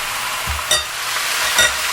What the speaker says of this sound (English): So we'll just continue to fry them a little bit more.